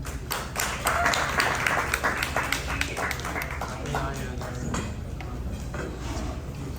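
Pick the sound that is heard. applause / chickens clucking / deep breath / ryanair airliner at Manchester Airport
applause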